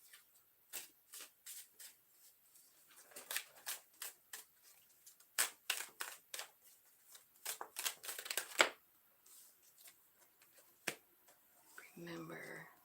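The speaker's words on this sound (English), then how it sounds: "Let's get some yin yang cards here and see if they have anything else." Yin yang cards are shuffled and handled at close range, a run of sharp riffling bursts and soft slaps at an uneven pace, with a brief voice near the end.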